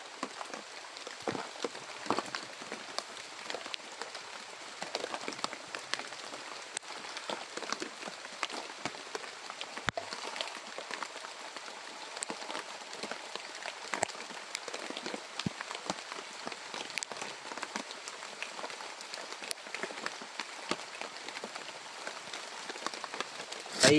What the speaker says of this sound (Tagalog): Kaita ning ulan tuloy.